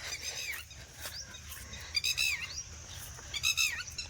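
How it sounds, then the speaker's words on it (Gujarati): Small birds chirp in quick bright bursts, three clusters of high tweets with brief pauses between, set against a quiet outdoor background. "પક્ષીઓનો કલરવ"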